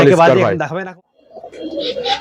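Giribaz pigeons coo at a pigeon farm; a voice talks briefly first, then soft, close cooing and rustling follow.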